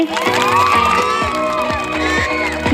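A crowd of children at a school annual day traditional dress show cheers and shouts, loud and close, in a continuous excited roar. Whoops rise above the crowd.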